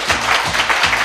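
Studio audience applause on a 1983 Italian music show, a short burst of loud, dense clapping with a fluttering rhythm, no voices over it.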